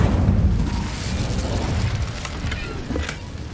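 Fire spell cast in the video game Hogwarts Legacy, a loud rumbling whoosh and burst of flame that swells at once and sustains with crackling bursts throughout, with no talk over it.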